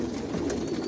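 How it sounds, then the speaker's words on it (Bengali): Racer pigeons of a Janssen line coo steadily in a loft, a low continuous murmur of several birds close by with no talk. "আর এগুলো সব বিদেশি কবুতর"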